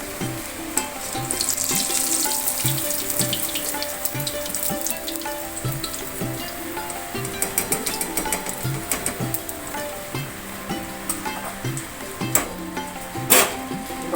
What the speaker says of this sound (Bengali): দেখুন, আমার পকোড়া ভাজাগুলো হয়ে এসছে।